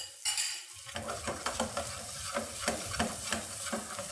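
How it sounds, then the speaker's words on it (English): Garlic sizzling in a hot pan as it is stirred, a soft steady frying hiss broken by repeated scraping and clinking strokes of a utensil, close and fairly quiet, no voices. "So you cook your garlic a little bit, just give that a little stir"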